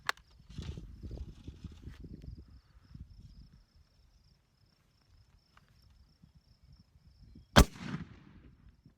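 A Romanian surplus 8mm rifle cartridge fires in one sharp, loud crack near the end, after quieter handling and rustling noises, with a faint steady insect-like whine in the background.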